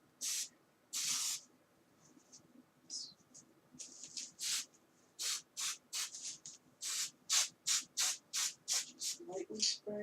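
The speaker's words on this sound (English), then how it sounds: "Lightly spray that." Basting spray is misted onto fabric appliqué letters laid over wax paper for stocking trim, in a run of short hissing bursts that come faster and more evenly toward the end, close and fairly soft.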